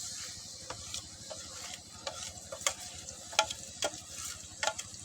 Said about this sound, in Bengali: মশলাগুলো একটু বাইজে নেব